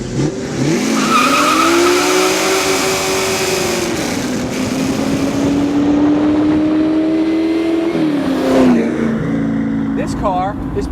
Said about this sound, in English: So here we are driving in the joy of sex, a 1967 Eleanor Shelby GT500